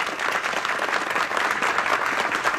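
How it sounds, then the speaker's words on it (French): Applause from an audience at an evening community gathering in Compton, Québec, a continuous, even wash of many hands clapping, moderately distant and steady, with no voices over it. "Merci, on les applaudit."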